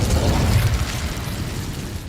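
A fiery Incendio spell bursts in Hogwarts Legacy, cast against a giant spider in a cave maze: a loud, roaring blast of flame that fills the space, then thins out gradually over about two seconds, with no voices.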